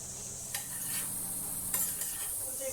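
Brinjal and drumstick leaves masala frying in a pan over a fairly high gas flame, a soft steady sizzle broken by a few sharp spatula scrapes and stirs against the pan, close by.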